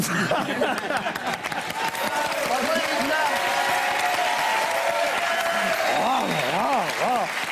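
A television studio audience applauds steadily while voices and bits of laughter ring out over the clapping.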